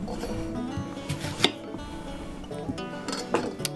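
Knife cutting the top off an onion on a cutting board in a home kitchen, a few close clicks and taps of the blade against the board over quiet room tone, with no voices.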